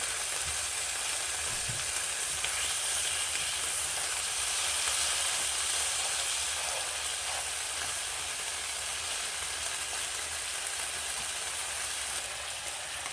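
Steak searing in a hot pan, giving a loud, even, continuous sizzle and hiss that holds throughout with no pauses and no voices.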